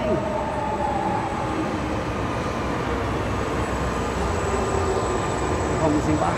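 A metro train arrives at a station near the Taguatinga terminal in DF, Brazil, with a steady loud rumble and rail hum throughout and voices over the noise.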